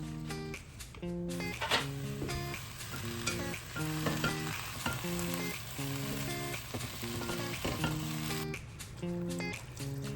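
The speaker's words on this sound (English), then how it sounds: "We're just going to saute it until it wilts, then we're gonna press out any excess liquid." Spinach sautéing in a pan gives a steady, close sizzle and frying hiss with stirring scrapes throughout, with no voices.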